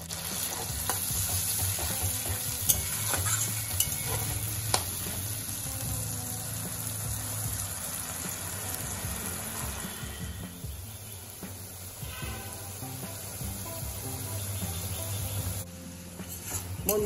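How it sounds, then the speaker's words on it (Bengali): Spice masala sautés in oil in a pot after a splash of water goes in, for a vegetarian potato curry (aloo dum). A continuous, moderate frying sizzle runs throughout with occasional stirring scrapes. "এরপর আমি ভালো করে কষিয়ে নেব।"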